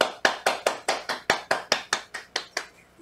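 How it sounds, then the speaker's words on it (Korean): An audience claps in slow unison at a gathering, about a dozen evenly spaced, sharp claps in steady rhythm that thin out and stop at the end. "다시 한번 총단장님과 하상현 총장님께 올해와 같은 감사의 박수 부탁드릴게요"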